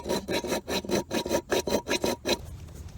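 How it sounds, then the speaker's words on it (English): A hand file rasps at the slot of a 2018 Ford F150 rear seat belt latch, about nine quick, evenly spaced strokes up close, then stopping into quiet. "So it took me a while of filing, but now this piece folds all the way up there"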